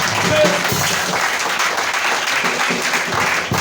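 A church congregation applauds and cheers in praise of Jesus during a worship service, a dense and steady wall of clapping and voices filling the room for the whole stretch.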